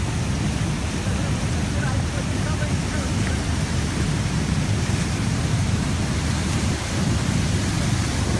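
Steady, dense roar of Niagara Falls outside Buffalo, New York, heard close by in the early morning as unbroken broadband rushing water that holds even in level throughout with no gaps.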